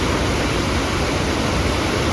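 Dense rushing water pours steadily in a monsoon downpour on the road to Mullayanagiri Peak in Chikmagalur, a loud, continuous broadband roar of flowing stream and waterfall with rain, close and unbroken throughout.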